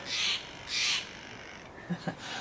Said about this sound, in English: The birds are out this morning.